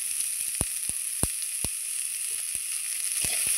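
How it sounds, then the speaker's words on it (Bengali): Onions and black cumin fry in oil with a steady, moderate sizzle, punctuated by several sharp, evenly spaced pops and crackles, with no voices. "দেখুন এর মধ্যেই ভালো করে পেঁয়াজটাও আমি ভেজে নেব।"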